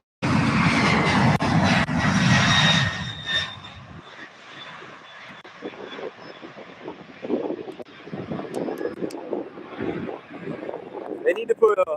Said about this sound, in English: turning onto the runway, we have UPS flight 2870